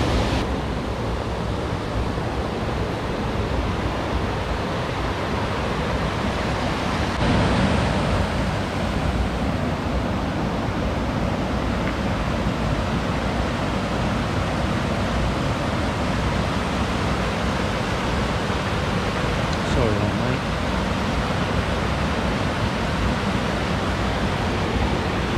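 A mountain river in Portugal, a trout stream, flows in a steady, full rush of water that holds even and unbroken throughout, close and loud with no voices.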